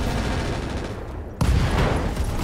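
Mech cannons firing high-explosive rounds in the battle game Roguetech, a dense roar of blasts that cuts out briefly and then slams back in louder and heavier.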